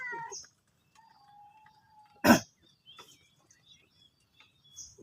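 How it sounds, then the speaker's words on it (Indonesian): A cat meows a few times in short, close calls between quiet gaps, with a sharp cough-like burst in the middle and faint bird-like chirps, in an outdoor fishing spot at Jatiluhur. "Kucing."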